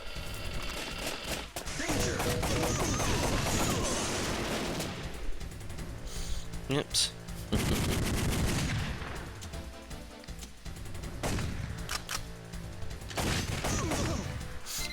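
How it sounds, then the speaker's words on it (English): Cannon blasts and rapid gunfire from the 1995 Namco arcade shooter Time Crisis, loud dense volleys in repeated bursts separated by short lulls, with a brief spoken remark in between. "cannon fire can hit you."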